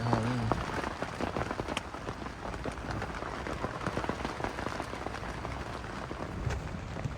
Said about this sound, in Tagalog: Lakas na ulan guys, may hangin.